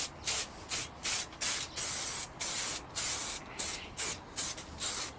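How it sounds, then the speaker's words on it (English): Spray adhesive sprayed onto tin foil and fabric, about a dozen short, loud, close hissing bursts in a quick even rhythm with brief gaps between them. "The minute I've sprayed up, stick it on and it bonds quickly and strong."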